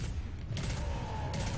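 Explosions and heavy weapon fire in the video game Destiny 2: a low rumbling background broken by two bright crackling bursts, loud and dense, with no voices.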